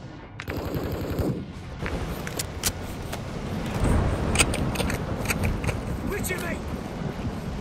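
Rapid automatic gunfire crackles through a Call of Duty Modern Warfare II Domination match on PS5, with bursts and single shots layered over a constant battle din at moderate level.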